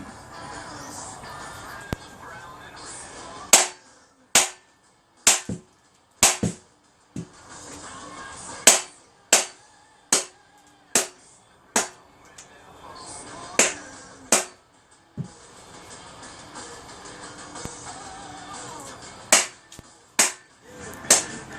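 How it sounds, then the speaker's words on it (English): Cheap pound-shop rubber mallet striking motorbike exhaust and cam chain tensioner parts during a workshop job, about fifteen sharp, close blows in irregular bursts with pauses between. "I took some swift blows, a bit of banging."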